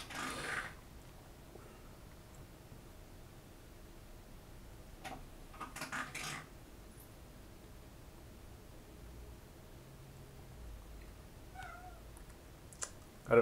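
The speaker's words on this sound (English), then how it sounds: "I don't know if you hear the meowing." A house cat meows a few times, faint and somewhat distant, with short calls near the start and around the middle separated by long stretches of quiet room noise.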